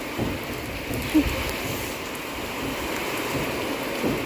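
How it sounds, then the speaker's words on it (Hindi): Steady rain falling outside a home, a soft continuous wash of drops with faint scattered splashes, moderately distant and without talk. "बारिश हो रही थी"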